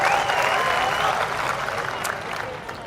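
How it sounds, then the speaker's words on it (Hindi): Audience applause fills a mushaira poetry event in Bhopal, a loud burst of clapping from a crowd that tapers off over a few seconds. "एक बार जोरदार तालियां बजाकर आप सब मुझे हुक्म दें।"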